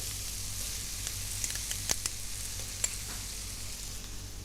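Tomato paste sizzles steadily in a hot pan as the base for a Maltese rabbit stew, a continuous close frying hiss with a few soft pops and clicks and no talking.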